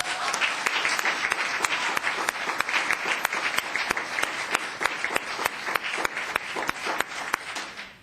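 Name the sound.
applause at a town council meeting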